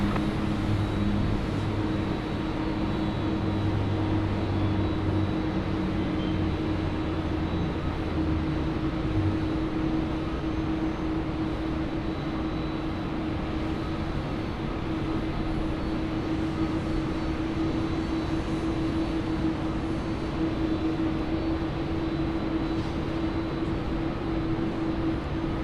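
A Xiamen Air airliner takes off from runway 34 left at Sydney Airport, heard as a steady, broad jet engine roar with a low droning hum that holds evenly throughout.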